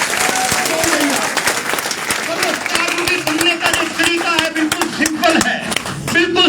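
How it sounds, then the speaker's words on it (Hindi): A seminar audience in Jodhpur breaks into loud, close applause, a dense clatter of many hands that swells and thins, with a voice talking over part of it. "एक बार जोरदार तालियां अपने सबके लिए"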